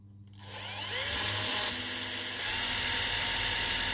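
A drill bores through a part of a model bridge, a loud steady whine that builds after a brief quiet start and holds with a grinding edge to the end.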